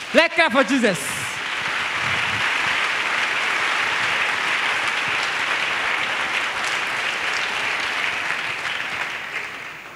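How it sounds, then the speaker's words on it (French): Church congregation breaks into sustained applause and cheering for Jesus Christ at a religious gathering, loud and steady for the full stretch, following a brief spoken exclamation at the start. "Acclamons pour Jésus-Christ"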